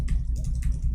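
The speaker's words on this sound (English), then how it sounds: "I'm typing. You see, it's not working." Short bursts of clicking keystrokes on a computer keyboard with some keys stuck and not working, several quick taps close to the microphone over a low steady hum.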